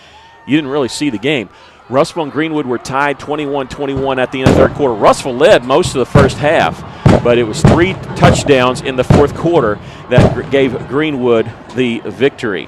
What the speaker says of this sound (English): And you can hear the cannons going off.